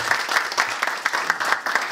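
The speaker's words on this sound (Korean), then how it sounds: "뜨거운 박수 부탁드리겠습니다" Warm applause from a lecture audience in Gwangju welcoming a professor to the stage, dense, brisk clapping from a crowd with sharper individual claps popping through.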